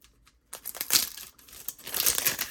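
Plastic toy packaging crinkles and tears along a zipper-style rip strip in a few quick rips, close up, with brief pauses between pulls.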